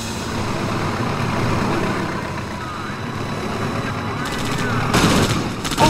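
Continuous machine gun fire rattles through a dense battle din in the PC strategy game Command & Conquer Red Alert 2, with rumbling vehicles and a sharp burst of rapid shots near the end.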